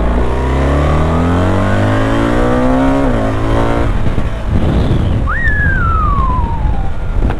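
A BMW R1300 RT motorcycle accelerating hard, its engine note rising through the gears with brief shift dips, loud and close, then a second higher whine climbing and falling away in the background.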